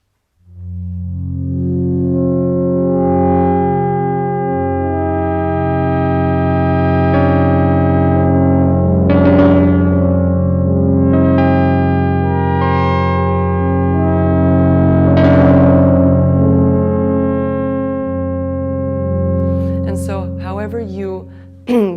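Arturia PolyBrute 12 polyphonic synthesizer in full touch envelope mode, sustained chords swelling and fading with breathy filter sweeps, played alone and fairly loud for about twenty seconds.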